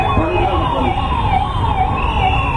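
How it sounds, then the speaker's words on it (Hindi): An ambulance siren wails loudly and continuously, its pitch sweeping up and down, close by over a rumble of traffic. "एम्बुलेंस को जाने का रास्ता दीजिए प्लीज"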